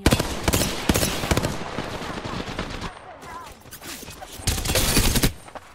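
Rapid gunfire bursts from an Apex Legends match, with loud repeated volleys near the start and again near the end, a quieter stretch of scattered shots in between.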